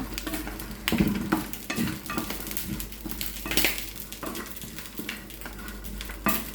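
Raisins sauté in a pan for vermicelli and sago milk payasam, a soft sizzle under frequent spoon scrapes and light clinks against the pan, close and fairly quiet.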